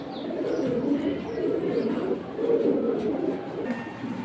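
Pigeons coo in a low, throaty, repeated rhythm at a Bangladeshi pigeon market, close and continuous, with a few faint chirps above.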